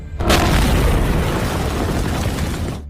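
A single powerful tank cannon blast erupts with a deep boom, followed by a heavy rumbling roar that fades slowly.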